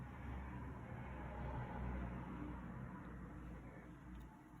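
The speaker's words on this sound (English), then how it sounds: "There's cars driving past" Cars pass on a road outside a room, a faint, steady low rumble of traffic that swells slightly and fades, no talk.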